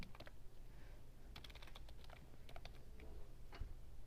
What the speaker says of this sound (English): So I could type that in there